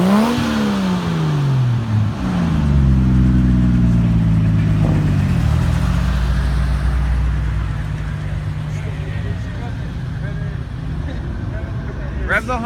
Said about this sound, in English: Rev the Honda!